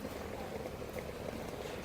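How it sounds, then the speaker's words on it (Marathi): Steady low bubbling of mutton simmering in a pot on the stove, continuous and soft, with no talking. "आता मी झाकण काढते याचं हे बघा मटण मस्त शिजतंय"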